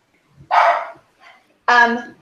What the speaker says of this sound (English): I'm sorry if you hear the dogs